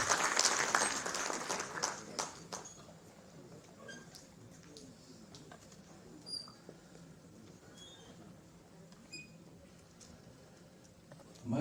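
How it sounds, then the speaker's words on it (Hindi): Audience applause welcoming a speaker at a social justice gathering in Bhopal, loud clapping for the first few seconds that thins to scattered claps and room murmur. "जोरदार तालियों से उनको स्वागत"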